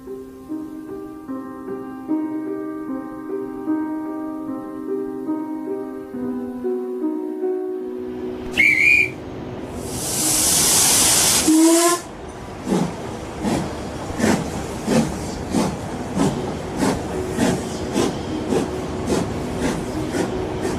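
A sharp whistle blast and loud rush of hissing steam, then a train's rhythmic chuffing and clacking, following a stretch of music.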